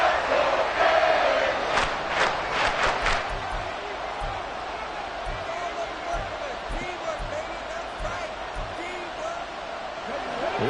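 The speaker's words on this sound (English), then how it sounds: "This crowd turning up the decibel level." A stadium crowd in a Madden football video game, Dolphins versus Titans, roars as a continuous swelling wash of noise, with a commentator's voice running over it.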